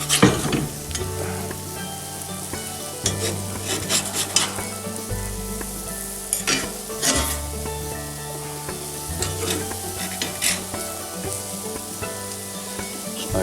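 Meat frying in a pan, a steady loud sizzle with repeated scraping and clanking as the pieces are flipped with a utensil, plus occasional sharper metallic taps.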